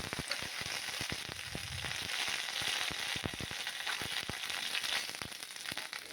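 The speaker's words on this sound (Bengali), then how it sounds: "অন্য একটা কড়াইতে আমরা তেল দিয়ে 5 ফোড়ন দিয়ে দেবো" Panch phoron spices sizzle in hot oil in a wok, a dense continuous fry with sharp crackles and pops throughout, fairly quiet and close.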